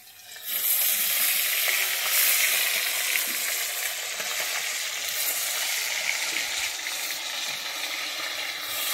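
Rui fish frying in hot oil in a home kitchen, a loud, dense, continuous close sizzle with scattered crackles and small stirring clatters throughout.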